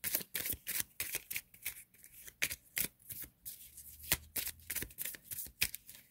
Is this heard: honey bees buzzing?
no